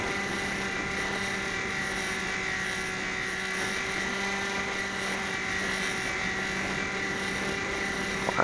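The electric motor of an XK A600 RC airplane climbing, a steady whining drone with a constant tone, distant and even throughout, with a small bump at the very end.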